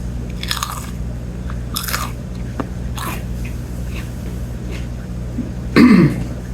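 A single loud, crisp crunch comes near the end as teeth bite into a Turbo Hab x Yellow Scotch Bonnet pepper, following quiet sniffs and faint rustling.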